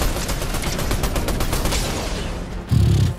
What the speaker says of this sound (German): ich werde von vielen Seiten beschossen